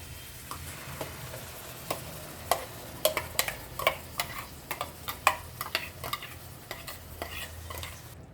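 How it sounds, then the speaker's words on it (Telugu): A spoon scrapes and taps in a pan as tomato paste is stirred into a sizzling egg masala curry, with irregular clinks over a steady low frying hiss. "ఈ విధంగా పేస్ట్ వేసుకున్న తర్వాత కలుపుకుందాము."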